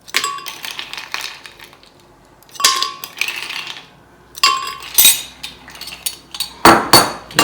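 Ice cubes dropped into a blender jar for a fruit milkshake: three separate clusters of sharp clinks and rattles, each followed by a short settling jingle, with a louder final clatter near the end.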